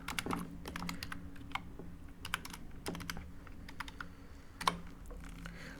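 Someone types on a computer keyboard while entering values into a MySQL table, producing clusters of quick, crisp key clicks with short pauses between bursts, close and fairly quiet, with no speech.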